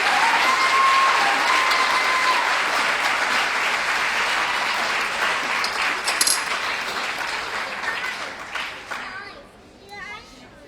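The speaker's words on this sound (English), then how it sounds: "Big round of applause for all of these awesome kids." A school meeting audience gives students a big round of clapping, dense and sustained before thinning out and fading near the end as a few voices and scattered claps remain.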